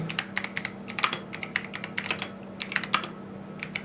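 Fingers tap out a prompt on a computer keyboard in quick, close clicks, with irregular bursts and brief pauses and no talk over them.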